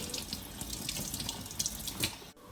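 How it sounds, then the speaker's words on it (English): Running tap water splashing over salted karela (bitter gourds) in a kitchen sink, a steady close hiss with irregular splatters that cuts off abruptly near the end, with no talk. "I'm just going to give it a good rinse."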